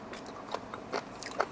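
Crunchy Japanese sanshozuke, a dried pickled vegetable preserve, chewed up close in a few crisp, irregular bites with short pauses between them, with no talking.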